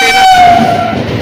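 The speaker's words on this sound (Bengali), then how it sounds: "ট্রেনটা বেরিয়ে গেল শ্যাক করে একদম" A train races past at high speed along a forest line on the way to Mumbai, a loud, steady rumble with a sustained horn tone sounding through the first part, then easing slightly.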